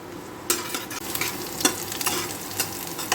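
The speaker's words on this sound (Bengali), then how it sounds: "পেঁয়াজটা এরকম হালকা করে ভেজে নিচ্ছি।" Chopped onions frying lightly in a pan, a steady close sizzle that starts abruptly and is broken by scraping stirring strokes, with no talk.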